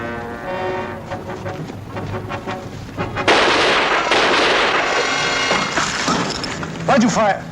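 Wartime gunfire rings out in a fight with escaped convicts, a loud burst of sharp cracks and rumbling blasts over swelling dramatic music, with a voice calling out near the end.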